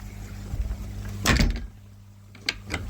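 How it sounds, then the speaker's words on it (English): A door swings shut with a single solid thud close by, followed by a couple of fainter knocks over a low outdoor rumble. "shut the door and we will leave them to it"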